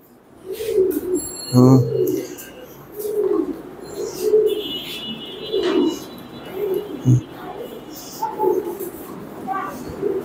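Pigeons in a farm coo repeatedly in low, throaty bursts, with chirps and the flutter of birds around them, while people talk now and then.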